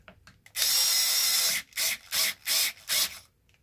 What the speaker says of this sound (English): Let's see if I can just use my drill.